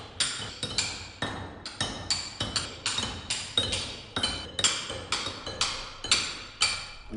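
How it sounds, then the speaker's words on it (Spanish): Hand tools strike a rough, irregular stone block as a stonemason smooths its faces, giving a steady series of sharp ringing clinks about once per half second, close and clear with no talking. "su primera tarea es alisar las 6 superficies con herramientas manuales"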